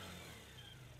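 Scooter engine running just after a kick-start, a brief, faint, buzzing mid-pitched drone held steady for a moment, heard alone.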